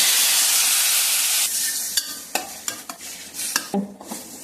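Chicken pieces for a healthy soup fry in a pan, giving a steady broadband sizzle that fades in the second half as sharp scraping stirs and clanks break through, close and fairly loud, with no talk.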